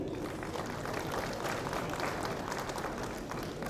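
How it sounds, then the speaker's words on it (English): Applause from an audience at a Kenya Music Festival workshop, a steady dense patter of clapping hands that fills the whole stretch at even strength. "Kindly let's clap for Madam Audrey"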